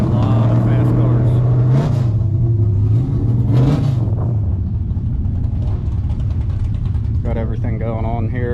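Fast street and drag race cars idle and rumble loudly in the pits at a late-night drag event, a steady low engine drone running throughout with a brief rev near the end, and people talking over it.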